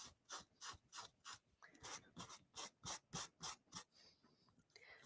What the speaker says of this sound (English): go ahead and do a little sanding right next to that seam